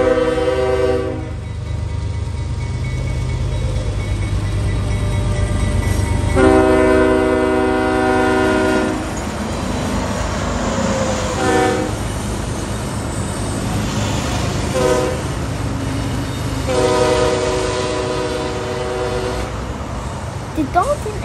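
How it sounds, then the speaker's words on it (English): A CSX manifest freight train led by locomotive 5262 rolls by with a steady low rumble while its horn sounds several long blasts, fading in and out over the passing cars. "Here comes CSX A704 manifest train now."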